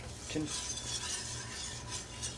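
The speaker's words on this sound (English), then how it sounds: "continuing to stir over, I'd say, a medium to medium-high heat until it thickens" A spoon stirring white sauce in a pan over medium to medium-high heat, giving soft continuous scraping and swishing with a faint clink.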